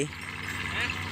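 A walk-behind farm tractor engine runs steadily nearby, a continuous rumbling drone with rattling overtones, heard in a brief stretch outdoors.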